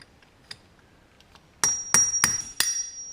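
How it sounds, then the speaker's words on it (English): Four sharp strikes from a 16-ounce framing hammer ring out in quick succession during a brake rebuild, after a quiet stretch with a few faint taps, each blow leaving a metallic ring. "16-ounce finish type framing hammer is just perfect."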